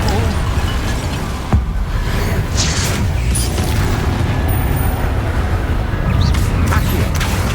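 Confringo spell explosions in Hogwarts Legacy, a loud dense rumbling barrage of booms and bursts that runs continuously with a few sharper impacts and whooshes on top.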